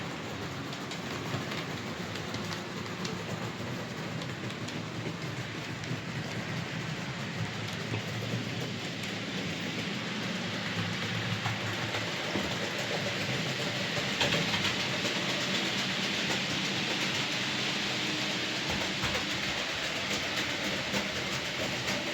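A model railway locomotive running steadily on its track, a continuous close rumbling whir with faint rhythmic clicking of wheels over rail joints, no voices.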